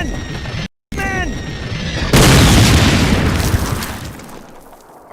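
Mortar shells exploding in a Call of Duty battle scene: after a short gap and some whistling, one loud, close boom bursts and rolls into a long, fading rumble of debris.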